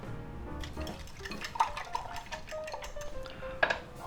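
Eggs with green onions beaten in a bowl, a quick run of close clinking and tapping of utensil against the bowl with light irregular knocks, no voices.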